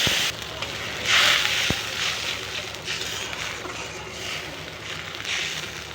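Spices with salt and turmeric fry in a pan as fish curry cooks, giving a soft steady sizzle with one sharp tap and faint stirring throughout.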